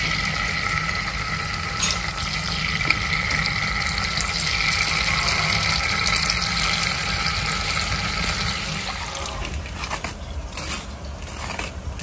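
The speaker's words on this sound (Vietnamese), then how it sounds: "Dầu mình nấu rồi mình cho đậu hũ vô mình chiên." Tofu frying in hot cooking oil in a home kitchen, a steady, close sizzle and crackle that holds evenly for the whole stretch with no talking.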